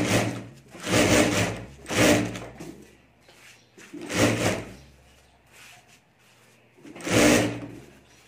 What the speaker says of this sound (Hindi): तो यहाँ मैं ऊपर सिलाई कर देता हूँ।